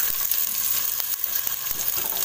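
Onions frying in about two teaspoons of coconut oil on a gas stove for a South Indian Tulu-style mackerel fish curry, a steady close sizzle and crackle that continues without pause.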